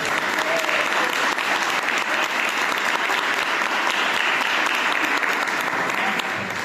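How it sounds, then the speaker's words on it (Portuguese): Church congregation applauding during a worship service, a loud, continuous wash of clapping from many hands lasting the whole stretch. "Sabe que você pode aplaudir o Senhor Jesus?"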